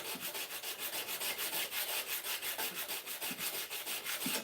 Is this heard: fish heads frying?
no